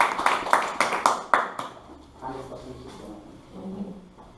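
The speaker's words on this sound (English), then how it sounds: "Everybody clap for him." A class claps for a student who has just answered at the board: a burst of several quick, fairly loud claps in the opening second and a half, then fading into scattered room noise with faint talk.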